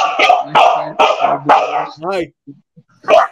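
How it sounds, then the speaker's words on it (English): A dog barks in a quick run of four sharp, loud barks that end in a yip, then there is a pause and one more bark. The barks stand alone with no talk over them. "There is a dog barking in the background that you might hear"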